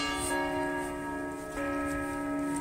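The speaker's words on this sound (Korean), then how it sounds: "지금 이 울려 퍼지는 종소리는 바로 성당과 예, 왼쪽의 종탑에서 12시 종이 울려 퍼지고 있답니다" Church bells ring noon from a bell tower in Venice, sustained resonant tones overlapping as a fresh strike lands partway through, loud and continuous.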